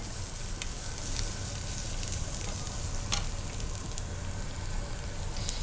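Green chillies, curry leaves and garlic frying in oil for an Andhra chicken fry, a dense, continuous crackling sizzle with sharp spitting pops, close and steady throughout.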